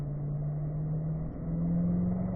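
A car on the Spring Mountain race track accelerates hard up through the gears to fourth, its steady engine drone loud and close with a brief dip partway through as the gear changes.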